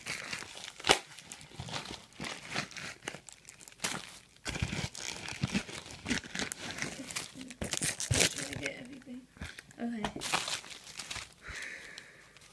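A metallic pink bubble mailer sealed with zebra duct tape is torn open and handled, with crinkling plastic rustles and sharp tearing bursts scattered irregularly across the span, close and fairly loud, with occasional breathing audible.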